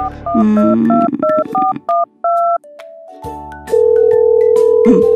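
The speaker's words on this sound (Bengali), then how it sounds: "আচ্ছা, আম্মাকে একটা ফোন করব, নাম্বারটা?" A telephone number is dialed in a Bengali radio play: a rapid run of clear two-tone keypad beeps of varying pitch, followed by a steady line tone, loud and close with no talking.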